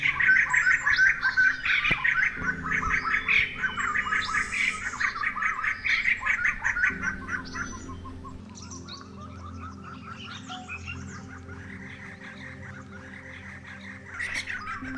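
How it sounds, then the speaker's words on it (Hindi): A group of white-crested laughingthrushes in forest at Kotabagh near Corbett gives loud, harsh squawking chatter in overlapping bursts that fade after several seconds into quieter scattered calls, with no talking. "अभी यहाँ कुछ व्हाइट क्रेस्टेड लाफिंग थ्रश आ गई है"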